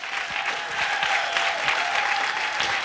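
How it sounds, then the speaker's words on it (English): An audience at an urban business storytelling competition applauds a judge being introduced, a steady, full wash of many hands clapping throughout, fairly close and without talk. "let's give him a round of applause"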